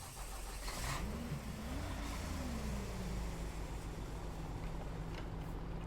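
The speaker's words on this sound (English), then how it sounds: "This is the V8 engine, by the way." A Kamaz truck's V8 engine in Euro Truck Simulator 2 revs under load while pulling a 20-ton trailer, its tone climbing and then settling into a steady, loud drone with no talk over it.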